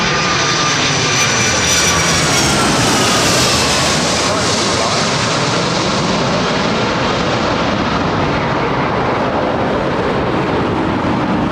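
Airliner fitted with Rolls-Royce RB211 jet engines passing at Heathrow, a loud, sustained roar with a descending whine that fills the whole clip and slowly eases as it moves past.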